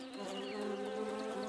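A bee buzzes steadily and close among flowers, a continuous droning hum with no voices over it.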